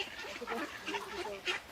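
Ducks on a river honk and quack faintly while being fed, a brief jumble of overlapping calls with no voices.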